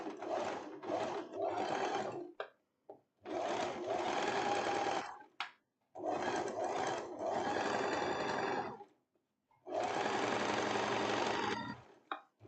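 Sewing machine fitted with a golden ball-point 8011 needle, running in several loud close bursts of rapid stitching separated by short pauses, with no talking.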